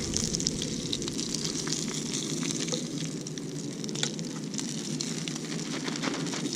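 Bullhead fish fry in hot grease with a dense, steady crackling sizzle and scattered pops, close and continuous with no talk.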